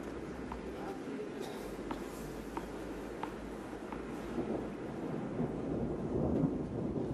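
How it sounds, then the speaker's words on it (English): Low thunder rumbles roll through an outdoor clay-court tennis match at the French Open, a dull distant swell that builds toward the end beneath a bed of wind and crowd noise, with faint sharp ticks scattered across it. "you hear the rumbles of thunder"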